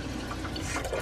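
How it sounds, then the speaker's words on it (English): Water runs from a kitchen tap in a steady, splashing stream with faint dripping texture, close and continuous for a brief moment. "We have the water running now"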